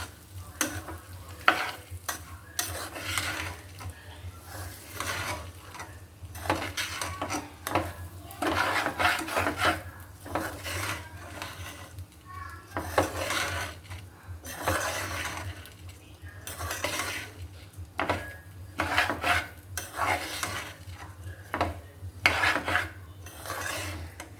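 Rice being sautéed with turmeric, cumin, coriander, dried chili and salt in a pot for khichuri, with repeated scraping stirs and soft sizzling in uneven bursts over a low steady hum, no talking.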